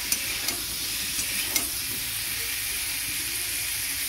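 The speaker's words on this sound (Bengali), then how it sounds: "এবার একটু নাড়াচাড়া করে নেব।" Boiled tomatoes with salt are stirred in a hot frying pan, producing a constant hissing sizzle broken by a few soft scraping taps of the spoon.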